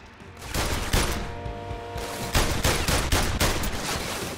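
Rapid bursts of gunfire from PlayStation VR Worlds' The London Heist, a busy, continuous crackle of shots with heavier bangs spaced through it, loud and close, with no talking.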